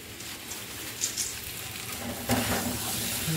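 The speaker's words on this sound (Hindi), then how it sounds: "पापड़ फ्राई कर रहा है" Papad frying in a pan, a soft, steady sizzle with faint crackling and hiss at low volume throughout.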